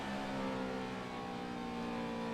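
A 2009 NASCAR Sprint Cup stock car powers through the lightly banked turn 3 at Pocono, a loud, steady high-revving engine drone with strong harmonic whine held continuously.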